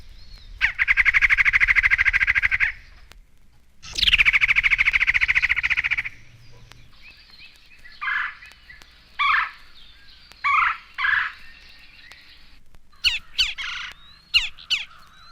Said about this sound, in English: These calls are from a red-bellied woodpecker.